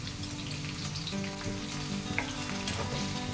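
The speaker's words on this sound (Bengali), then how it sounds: "বেরেস্তার জন্য পেঁয়াজগুলোকে ভালো করে লাল লাল করে ভেজে নেব" Onions sizzle and crackle steadily in hot oil in a pan, fried until browned for beresta, a close, continuous frying hiss with small stirring sounds and no talk.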